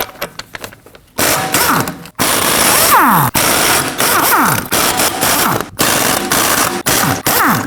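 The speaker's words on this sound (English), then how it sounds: "we can go ahead and remove the lug nuts with a 21 millimeter" Lug nuts coming off a Ford Edge wheel with a 21 mm socket on a raised vehicle, a loud, choppy burst of tool whirring and metallic rattling, cutting in and out in short repeated bursts with no talk.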